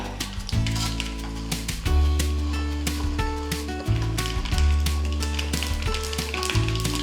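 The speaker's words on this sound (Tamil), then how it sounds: "ஆயில் சூடானதும் கடுகு சேர்த்தியாச்சு கடுகு சேர்த்தினவனே நம்ம கடலைப்பருப்பு சேர்த்துக்கலாம்" Mustard seeds and chana dal fry in hot oil for a tempering, with close, loud sizzling and crackling, sharp popping bursts and recurring clinks of a utensil against the pan.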